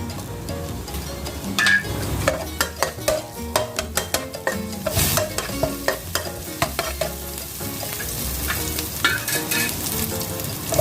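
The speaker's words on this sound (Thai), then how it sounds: "แล้วใส่ กระเทียมกับพริกลงไปเลยค่ะ" Garlic and chilies sizzle steadily in a little hot oil in a pan, with repeated stirring strokes and the clink of a utensil on the pan giving a rhythmic scraping pattern, close and fairly loud, with no talking.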